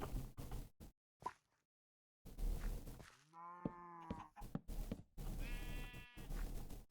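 Sheep bleating in the Minecraft video game, several short wavering bleats in a row that stand out clearly against a noisy game background, with brief pauses of quiet between them.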